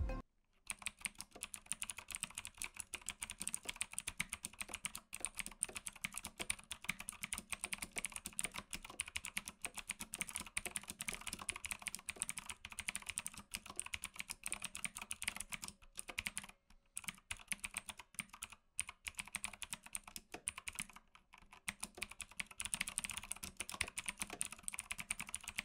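A budget modular mechanical gaming keyboard clacks in a long, steady run of rapid keystrokes, dense and continuous with only brief pauses, close and alone without voices.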